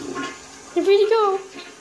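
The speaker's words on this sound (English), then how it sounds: "Did you just flush him down the toilet?" A toilet flushes in a bathroom scene of a video game, a short rushing swirl of water lasting about a second, heard under and alongside a game character's speech.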